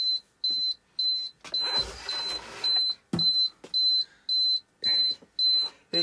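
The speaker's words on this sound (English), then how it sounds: "It's beeping." An ironing press just switched on gives a series of short, evenly spaced electronic beeps, about a dozen in a row, with light handling noise between them.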